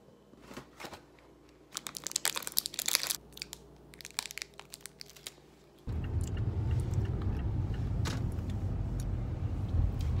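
Steady low road rumble inside a moving car, loud and continuous after a stretch of crinkling, handling noises near the microphone; no talk.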